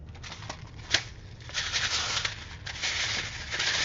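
Paper being folded over to seal a travelers notebook pocket, giving soft close crinkles and scuffing rustles with a sharp crease snap early on, continuing in uneven bursts without talk.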